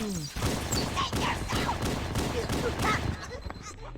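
Needler fire in Halo: Combat Evolved on Legendary difficulty, a dense burst of rapid crystalline shots and impacts lasting a few seconds, mixed with game noise.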